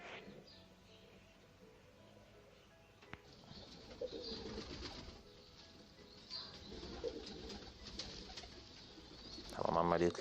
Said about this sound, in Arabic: بص الحمام جنبي